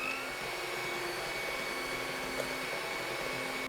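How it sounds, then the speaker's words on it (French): Electric mixer whipping cold cream into chantilly for a strawberry charlotte, a steady, loud whirring motor hum that runs without a break and with no talk. "Quand la chantilly commence à monter, on continue à mixer et on rajoute le sucre glace"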